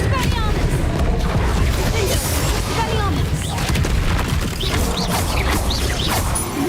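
Spell blasts in the Hogwarts Legacy video game boom and crash continuously through a dense, loud battle mix, with rapid impacts and bursts layered over one another and no clear pauses.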